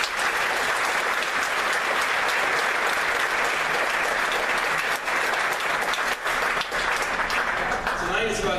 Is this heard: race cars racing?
no